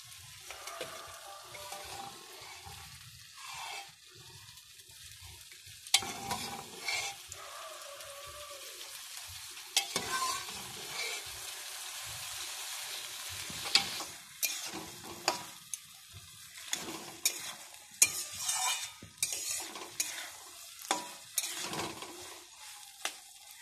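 Ghugni dal being stirred and fried in a pan, an uneven sizzle with repeated scraping and clattering strokes that come in irregular bursts, fairly close and moderately loud.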